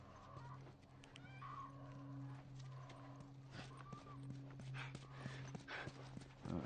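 A horse in The Last of Us on PS3 gives quiet, rhythmic hoof clip-clops and a soft whinny over a low, steady game-ambience hum.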